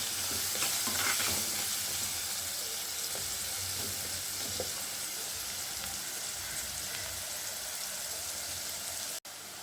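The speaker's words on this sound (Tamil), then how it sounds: "நெல்லிக்காயை போட்டுடலாம் ஒரு ரெண்டு நிமிஷம் வதக்கிட்டு" Gooseberries sautéing in hot oil for pickle, a dense, loud, continuous sizzle that holds steady for the whole stretch with faint stirring beneath.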